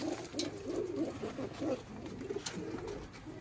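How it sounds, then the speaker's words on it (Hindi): Soft, repeated cooing of blue Kamanger pigeons with low throaty pulses in a steady rhythm, close by, with faint background ambience and no talking. "ये तो मैं अक्सर दिखाता हूँ कबूतर, नीला कमानगर कबूतर है माशाल्लाह।"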